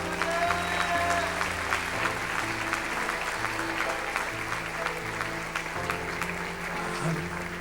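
A church congregation applauds steadily for several seconds, a dense wash of clapping over sustained organ or keyboard chords and low bass notes from the worship band.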